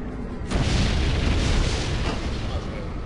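A black hole attack in the Septerra Core battle detonates with a loud, deep booming blast about half a second in, then rumbles on heavily for the remaining few seconds.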